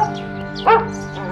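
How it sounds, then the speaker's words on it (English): A single short dog bark used as a story sound effect, ringing out once midway over a steady musical backing, loud and close. "He met a dog on the way."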